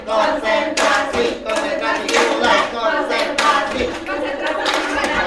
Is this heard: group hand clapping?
yes